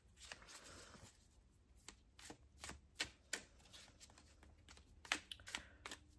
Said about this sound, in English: So I'm going to give these a shuffle